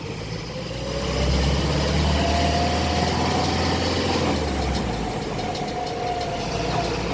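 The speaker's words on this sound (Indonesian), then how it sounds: "ada sedikit kendala pada transfer case, ada noise" A Hino Dutro double-cab 4x4 truck idles with a steady, close, low engine rumble while a faint whine from a faulty transfer case rises and falls through it.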